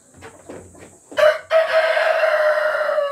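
Rhode Island Red chickens cluck softly nearby, then a rooster lets out a loud, close crow that rises and holds into a long drawn-out call.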